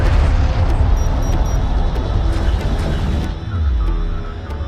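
Battle in the real-time strategy game Homeworld: Deserts of Kharak, with loud, continuous booming explosions and rumbling weapons fire that thin out toward the end.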